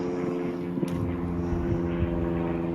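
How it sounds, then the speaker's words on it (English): A propeller airplane drones steadily overhead, a continuous engine hum with a few faint clicks and thumps nearby and no talking. "There's a plane."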